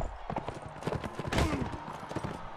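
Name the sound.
horse in the video game Mount and Blade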